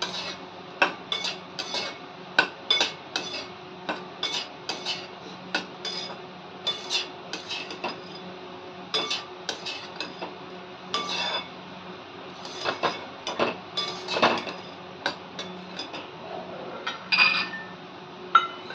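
Dry grated coconut and poppy seeds being stirred and sautéed in a pan for Govind laddu, with a spoon giving frequent scraping and clinking strokes against the metal in an irregular rhythm, fairly close and moderately loud.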